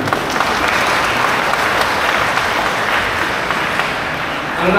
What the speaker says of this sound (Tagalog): palakpak po natin sila